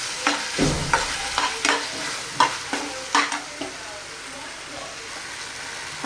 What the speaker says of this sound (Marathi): चिली सॉस टाकते थोडा छान मिक्स करून घेते